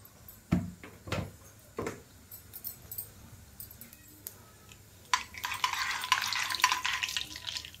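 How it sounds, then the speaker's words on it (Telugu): Mustard seeds and cumin hitting hot oil in a kadai: a few soft clinks and stirring knocks, then a bright, steady crackling sizzle building and holding for the last few seconds, fairly quiet and close. "కడాయి హీట్ అయ్యాక అందులో ఆయిల్ పోసుకోవాలి. కొద్దిగా ఆవాలు, కొద్దిగా జీలకర్ర వేసుకోవాలి"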